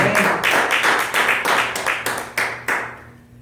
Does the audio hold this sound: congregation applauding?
yes